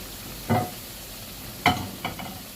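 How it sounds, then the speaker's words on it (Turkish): Soft sizzling of meatballs frying in oil, with a few clinks and scrapes of stirring over a steady background hiss. "Köftelerimi kızartacağım."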